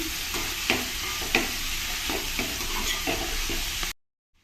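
Ridge gourd pieces frying in oil in a tempering pan, a continuous sizzle with occasional stirring scrapes and clicks, moderately loud and close, ending abruptly in silence, with no talk.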